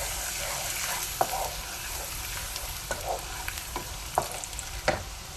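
Garlic-ginger paste goes into onions frying in a pan and sets off a soft, continuous sizzle. A few sharp spatters and stirring clicks pop out of the quiet, steady hiss.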